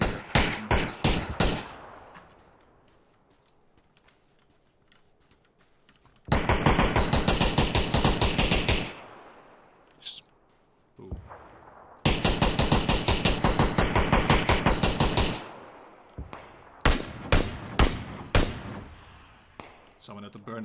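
Gunfire in the PUBG battle royale game on the Miramar desert map: dense bursts of rapid automatic fire in two long stretches, with single loud shots before and after and quieter gaps between.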